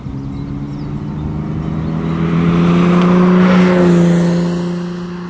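A 1980 BMW M1 sports car pulls hard on the road, its engine note rising and swelling as it accelerates, peaking loud before easing slightly, with a steady harmonic drone throughout.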